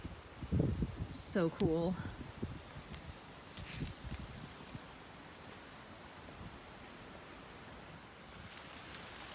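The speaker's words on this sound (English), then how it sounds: "This wind is definitely making a mess of things." Wind sweeps through the garden foliage and fallen palmetto leaves, a steady rushing hiss with gusty rustling throughout, while a person speaks briefly near the start and a bird calls.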